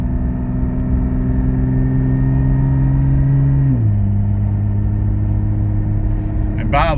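A car fitted with a Soul Performance V2 exhaust drives past at steady speed, its engine drone holding and then dropping in pitch as it shifts gear, close and continuous.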